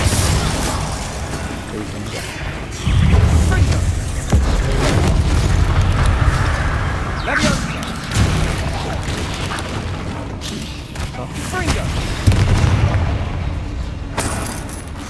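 Spell blasts in Hogwarts Legacy combat, a run of loud booms, crashes and bursts firing in quick succession, with a voice calling out spell names over the impacts.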